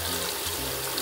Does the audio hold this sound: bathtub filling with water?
yes